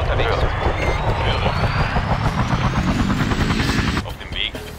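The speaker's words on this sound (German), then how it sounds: "Und der Hubschrauber kann dann erstmal abzischen." A helicopter lifts off and flies away in the emergency-services game Emergency 4, with a steady loud rotor and engine roar and a rising whine that cut off near the end, under ongoing game noise.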